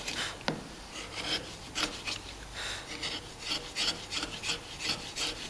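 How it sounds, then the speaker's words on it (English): Steel chisel paring a small high spot off a wooden half lap joint, giving repeated soft rasping scrapes in an irregular rhythm, close and fairly quiet, with no talk. "I can just pare off a little bit of that high spot."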